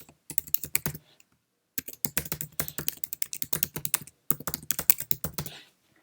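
Quick, uneven keystrokes on a Mac computer keyboard as an email address is typed, coming in three bursts of clattering taps separated by brief pauses, close and clear with no talking.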